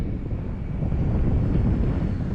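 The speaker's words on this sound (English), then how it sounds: "Oh man, that wind." Steady low wind rumble buffets the microphone at an RC plane flying field, a dense continuous roar lasting the whole moment with no voices.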